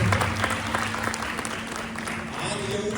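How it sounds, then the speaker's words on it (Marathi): An audience claps together with a lively, dense patter that continues throughout, while a voice speaks over it. "मंडळी टाळ्या वाजव टाळ्या."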